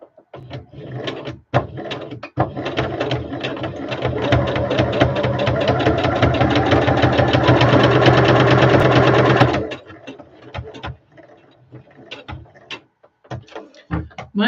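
A home sewing machine stitching in a steady, rapid mechanical rattle for several seconds, loud and close, then stopping, followed by scattered clicks and handling knocks.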